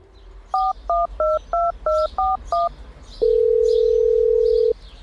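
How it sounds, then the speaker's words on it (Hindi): An old, small mobile phone dials a number: seven short, evenly spaced keypad tones beep in quick succession, followed by one long, steady tone, all clear and close with no talking. "वो बूढ़ा पड़ोसी अपना छोटा सा फोन निकाल के आंखें छोटी करके किसी का नंबर लगाता है"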